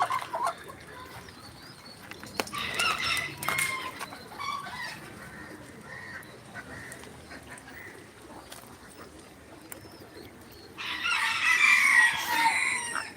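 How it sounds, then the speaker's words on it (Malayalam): Aseel hens cluck and call in short bursts, with a louder flurry of squawking near the end, against a quiet rural background. "അസിൽ കോഴിൻ്റെ പിടക്കോഴി"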